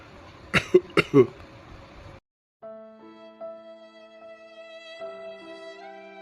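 Three or four harsh, close coughs in quick succession from a cartoon character, then a brief silence before soft sustained music takes over.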